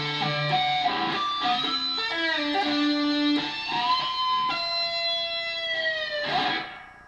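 Electric guitar plays a section of a solo alone, with sustained, bending lead notes and legato runs ringing with effects, ending on a long held note that fades out.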